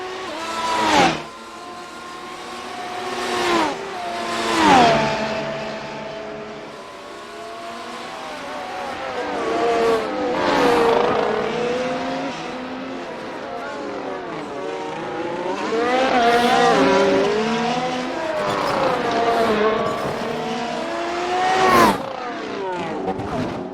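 F1 race cars at Long Beach in iRacing roar past one after another, their engine notes sweeping up and down through gear shifts, with several loud close passes rising out of a steady background drone.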